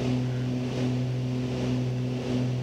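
A Beechcraft Baron airplane's engine holds a loud, steady droning hum with strong constant tones, as RPM comes back during flight, heard alone without talk.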